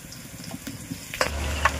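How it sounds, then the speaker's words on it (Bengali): Meat dropped into hot oil in a kadai, with potatoes already in the pan: a soft crackle swells into a louder, fuller sizzle partway through and keeps going with a few sharp spits, and no voices are heard. "এবার কড়াই দিয়ে দিল মাংস।"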